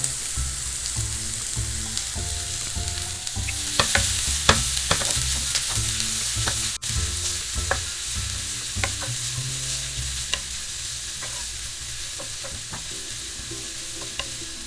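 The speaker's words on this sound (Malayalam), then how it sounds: "നന്നായിട്ടൊന്ന് വഴറ്റുക. ഈ സവാളയിലേക്ക് കുറച്ച് കറിവേപ്പില കൂടി ചേർത്ത് കൊടുക്കാം" Sliced onions and curry leaves fry in a pan for Bellary chicken, a continuous close sizzle broken by frequent spatula scrapes and taps against the pan at an uneven rhythm.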